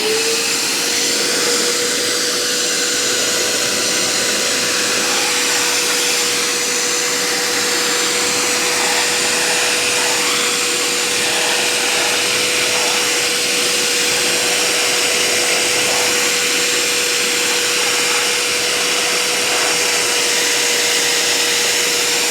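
A BISSELL SpotClean ProHeat Pet portable carpet cleaner, model 2513W, runs steadily on stairs, its loud, close motor whine droning unbroken with a constant pitched tone and airy suction hiss throughout.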